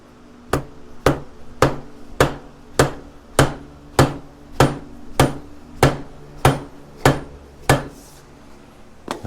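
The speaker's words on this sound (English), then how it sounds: "I'm going to use a nice dead blow and just" A dead blow hammer strikes a part on a Polaris Sportsman 700 ATV: about thirteen evenly spaced, sharp, close knocks in a steady rhythm, alone with no talk.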